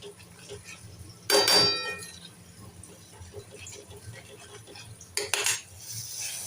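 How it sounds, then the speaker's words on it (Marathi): A spatula scrapes and stirs a raw ground masala paste roasting in oil in a pan for a quick chickpea curry, with two loud scraping bursts over a quiet, faintly bubbling background. "आता हे तेल सुटेपर्यंत चांगलं भाजून घ्यायचं"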